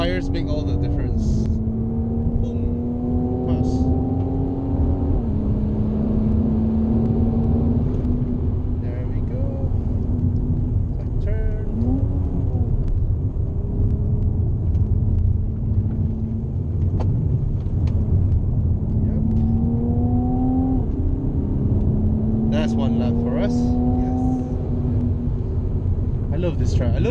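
A car being driven fast around a tight race track while testing Michelin PS4 and Pirelli P Zero tyres, its engine droning loud and steady with repeated rising rev sweeps through gear changes, under ongoing talk.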